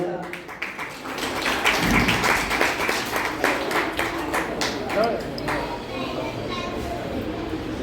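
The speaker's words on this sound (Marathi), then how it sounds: "आपण पुन्हा एकदा टाळ्या वाजवा" An audience at a public meeting claps, a dense crackling wash of hands that swells and then slowly thins and fades over several seconds.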